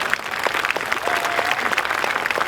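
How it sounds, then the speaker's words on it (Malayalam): Large crowd at a Hindu gathering on an open ground in Palakkad clapping steadily, a lively, dense applause with a few louder individual claps standing out. "ഈ കയ്യടി പോരാട്ടോ."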